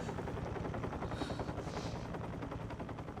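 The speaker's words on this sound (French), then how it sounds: "Normalement, il y a un hélico qui est censé venir nous sauver aussi." A helicopter in the Resident Evil Requiem video game gives off a continuous rapid rotor chop, steady and fairly faint against a low rumbling background.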